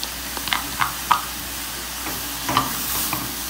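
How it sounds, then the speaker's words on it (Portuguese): Onion sautéing in a pan together with egg and grated carrot, a soft steady sizzle with several sharp stirring scrapes and knocks of a utensil against the pan, close and alone without talk. "agora eu vou colocar a cebola pra refogar aqui junto com o ovinho"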